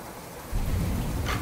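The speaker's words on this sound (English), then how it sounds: "That storm in the background's got a weird noise" A rainy thunderstorm in a video game rumbles in steadily after a brief quiet start, with a low continuous roll of thunder over falling rain.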